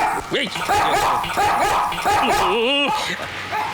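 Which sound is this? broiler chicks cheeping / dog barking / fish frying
dog barking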